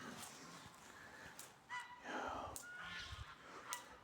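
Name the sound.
geese honking near an off-grid electric fence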